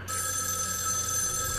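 A telephone rings steadily in a horror video game, a bright electronic bell tone holding on continuously at moderate level with no talk over it.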